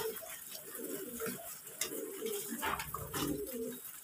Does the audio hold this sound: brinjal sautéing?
no